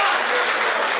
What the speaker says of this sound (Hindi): हाथ खड़े करके तालियां बजाओ जरा एक बार साहब